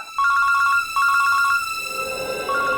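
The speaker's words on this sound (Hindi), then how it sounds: "बंटी के स्कूल से फोन।" A telephone rings with rapid electronic pulses in two distinct groups, then a third ring begins. It is loud and close, with no talk over it.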